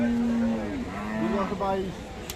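A single long, drawn-out Holstein Friesian cow moo that rises and bends in pitch, close and clear over a low murmur of background noise at Ambari cattle market, Dinajpur.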